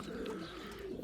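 Racing pigeons coo in a loft, a close, steady, low murmuring coo that runs unbroken through the short moment.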